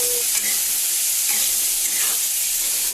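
Garlic, onion and vegetables being stir-fried in a hot pan give a loud, steady sizzling hiss, with occasional scraping stirs, that runs unbroken until it cuts off at the very end.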